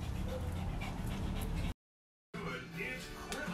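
Dogs whimpering before being fed, close and continuous whining and panting that cuts out briefly and then resumes, with some human voice mixed in.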